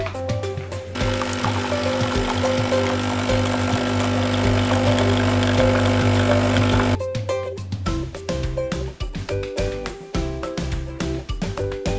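A coffee machine makes coffee at home in the morning, giving a loud, steady mechanical whirring and grinding drone for several seconds, then a stretch of irregular clicking and rattling as it works.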